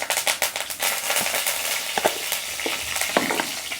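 Steady crackling sizzle of curry leaves frying in hot oil, with sharp pops and spits scattered throughout, close and fairly loud.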